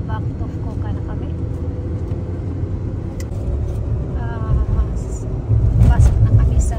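A car cruises onto a Japanese highway near Fukuoka, a continuous low road and engine rumble that grows louder toward the end, with people talking inside the cabin.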